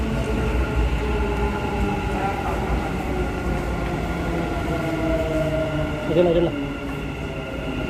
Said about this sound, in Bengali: এই হচ্ছে দুবাইয়ের মেট্রো